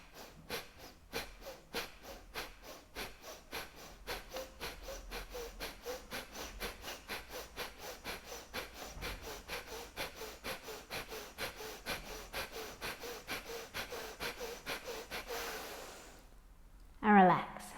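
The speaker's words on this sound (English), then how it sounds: "Take a few normal breaths. We're going to go a smidge faster." Fast rhythmic forceful breaths in a yoga breathing exercise, sharp exhale puffs repeating at an even quick pace close by, ending with a short louder sound.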